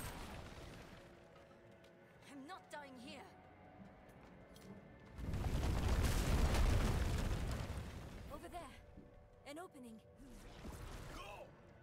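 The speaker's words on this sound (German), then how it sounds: "Killst den ersten so mit deinen Skeletten und danach machst du einfach noch Explosion" Explosion from necromancer gameplay in Diablo IV, a broad booming burst lasting several seconds between stretches of game effects and voices.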